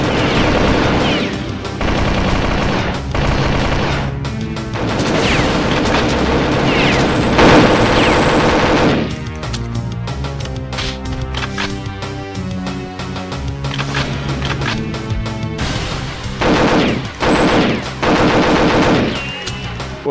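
Rapid automatic gunfire and booming shots from the Nintendo 64 game Perfect Dark crackle in dense, loud bursts that run almost nonstop, with brief lulls and layered explosions throughout.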